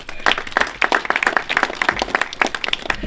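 A seated audience at a county sports museum event claps in a dense, lively burst of applause heard close and alone for a few seconds.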